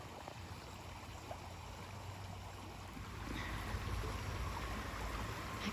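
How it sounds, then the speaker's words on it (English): A fast-flowing river at the River Crossing campgrounds in Butler, Ohio, heard as a steady, faint rushing wash of water with no breaks. It grows slightly fuller halfway through, with no voices over it. "And this is the river at the campgrounds."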